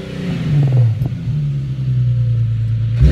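A 2011 Infiniti G37 exhaust rumbles loud and close, holding a steady deep idle with a brief rev swell early on, alone with no talking.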